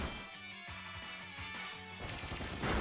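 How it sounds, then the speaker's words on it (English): Rapid series of sharp hit impacts from the Pin Missile attack in the Pokémon Shield video game, several quick synthetic thuds in a row before a brighter burst, loud and close with no talking. "You can see multiple attacks from Pin Missile."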